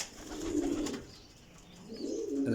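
Pigeons coo softly nearby in two low, rolling bursts separated by a brief lull.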